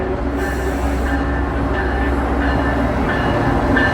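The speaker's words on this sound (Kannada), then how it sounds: "ಟ್ರೈನ್ ಬಂತು." A Toronto commuter train pulls into the station with a loud, continuous rumble and faint squealing tones from the wheels, close by and steady throughout.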